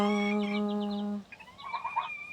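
Chickens in a garden pen call nearby, with a long drawn-out tonal call followed by several short, quick clucks.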